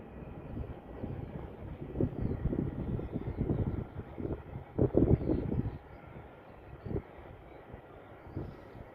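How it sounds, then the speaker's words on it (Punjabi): Airplanes flying in the distance in Australia: a broad, rumbling engine roar drifts in, rising and falling unevenly, with gusts of wind noise and no talking. "ਵੇਖੋ ਜੀ ਜਹਾਜ਼ਾਂ ਦਾ ਖੜਕਾ ਹੋ ਰਿਹਾ ਜਹਾਜ਼ ਆਉਂਦੇ ਇੱਥੇ"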